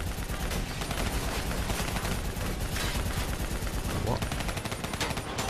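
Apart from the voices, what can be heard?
gunfire in Black Ops 3 video game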